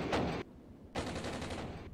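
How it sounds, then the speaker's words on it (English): Bursts of gunfire striking a command unit in the military simulation game Armored Brigade, two loud dense volleys separated by a short gap, the second longer and sustained, with no talking. "And my command is actually taking fire."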